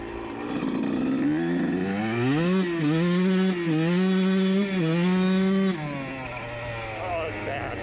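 A vehicle engine with a slipping clutch revs up loud and close, its pitch climbing, holding high for a few seconds, then falling away, with a rough, buzzing tone throughout.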